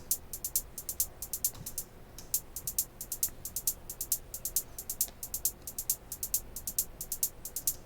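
A dance-style hi-hat pattern ticks in a fast, steady rhythm with accented velocities, crisp and bright on its own with a short gap partway through, played quietly.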